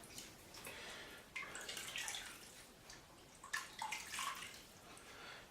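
Warm water splashes and trickles into a bowl or scuttle to soak a badger shaving brush, a quiet, steady wash with a few louder splashing bursts, close by and without speech.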